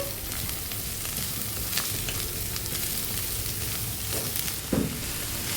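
Thinly sliced cabbage stirred into frying onions in a pan for a cabbage egg fry, a dense, steady sizzle close up with scraping spatula strokes and a louder clink near the end.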